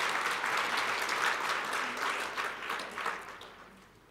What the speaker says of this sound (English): Can we give the Minister another round of applause,